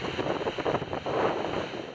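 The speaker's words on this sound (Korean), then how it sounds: "강풍에 몰아치는 높은 파도." Strong wind roars against a sea cliff in Jeju as high waves crash below, a dense, continuous rush of gusting noise and surf filling the whole stretch with no voices.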